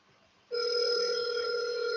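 A telephone ring tone starts after a half-second of quiet and holds steady and loud to the end, a continuous ringback for a call that goes unanswered to voicemail.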